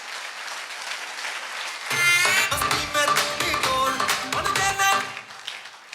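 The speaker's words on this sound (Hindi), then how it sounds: "जोरदार ताली होनी चाहिए सर के लिए" An audience at a Safeshop motivational gathering breaks into loud applause, dense clapping that swells after a couple of seconds as tonal music joins in beneath it.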